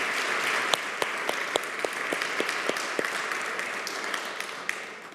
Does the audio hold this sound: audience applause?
yes